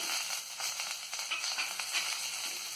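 Chopped onions and curry leaves sauté in hot oil for Tamil-style coconut rice, giving a steady, close, bright sizzle that crackles evenly throughout with no talking.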